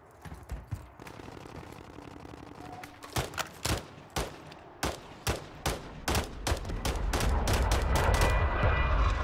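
Gunfire in the shooter game Warzone, a string of sharp separate shots in an uneven rhythm, then building into dense, louder sustained firing and rumble at the end, with no talking.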